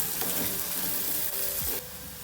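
Sliced onions with a pinch of salt and turmeric frying in a pan, a steady moderate sizzle with soft scraping as they are stirred, the hiss dropping slightly near the end.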